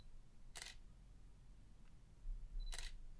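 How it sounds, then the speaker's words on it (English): A Canon EOS 250D DSLR fires its mirror and shutter in silent drive mode, two short muted mechanical clacks about two seconds apart in a quiet room. "it can't help but make some noise as the mirror and shutter open and close"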